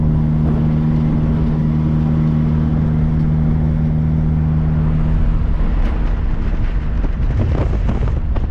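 A 50-year-old open-top classic car's engine and exhaust rumble steadily from close by, partly masked by wind buffeting, with a deeper surge of engine noise in the last few seconds.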